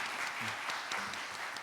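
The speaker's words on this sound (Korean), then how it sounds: "박수로 환영해 주시기 바랍니다." Audience at a symposium clapping to welcome a presenter, a short dense burst of many hands applauding evenly across the room.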